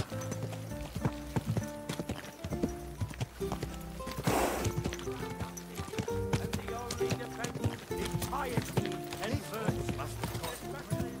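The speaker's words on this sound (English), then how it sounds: "Easy, good horse." Horse hooves clip-clop steadily in Kingdom Come: Deliverance 2 under a busy game soundtrack, with a brief whinny around the middle and a voice talking over much of it.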